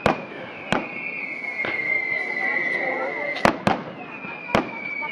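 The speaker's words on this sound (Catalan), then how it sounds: "Està cremant el castell i ara els petards estan" Firecrackers crack in sharp, scattered bangs, some close together, over a sustained whistling hiss from the castell de focs fireworks display at the Patum festival in 2010.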